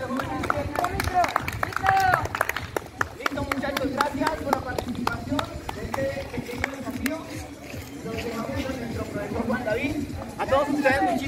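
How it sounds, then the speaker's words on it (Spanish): Children at an outdoor Día del Desafío 2021 activity in Nimaima clap in a loose, uneven patter of many small hands, mixed with overlapping voices and chatter throughout. "Niños, un fuerte aplauso para todos ustedes."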